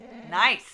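A pet dog gives a brief whimpering, groaning vocalization that rises and falls over under a second, with a person speaking briefly at the same time.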